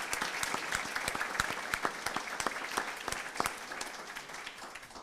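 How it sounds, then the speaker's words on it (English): A graduation audience applauds in a hall, many hands clapping in a thick continuous patter with sharper individual claps standing out, fairly distant and even in level. "A big applause also to someone you, of course, mostly know"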